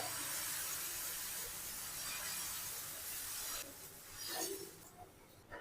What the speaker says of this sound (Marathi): एक पळी बॅटर टाकायचं आहे तव्यावर